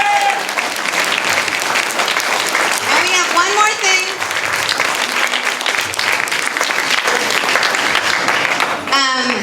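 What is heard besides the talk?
seminar audience applause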